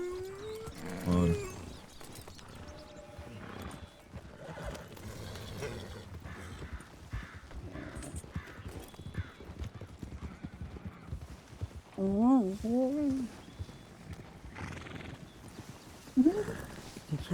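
Horse hooves clip-clop and a horse whinnies in Red Dead Redemption 2, brief neighs rising over a busy game soundscape while players talk in French.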